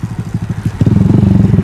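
A motorcycle engine putters in quick, even pulses during a wheelie, then rises to a louder, denser rumble as a little throttle is added, close and clear throughout.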